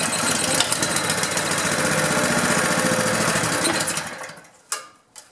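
A small pressure washer engine that had trouble starting, now running on choke with a rough, rapid mid-pitched putter close by, then cutting out near the end followed by a couple of faint clunks.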